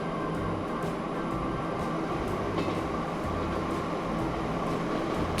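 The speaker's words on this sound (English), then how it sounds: "I guess this locomotive is not really meant to pull" Locomotive pulling wagons in the video game Transport Fever, a steady, continuous rumble of rolling rail cars with faint rhythmic clatter, even in loudness throughout.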